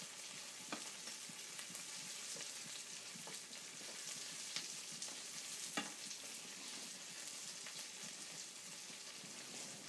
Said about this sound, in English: So just saute your vegetables.